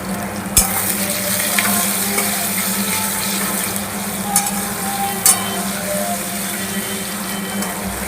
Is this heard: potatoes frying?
yes